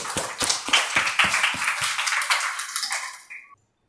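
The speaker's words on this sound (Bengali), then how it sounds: "প্রত্যাশার জন্য একটা হাততালি" Scattered hand claps from a sixth-grade classroom, several sharp separate claps over about two seconds, then a brief fading ringing tone.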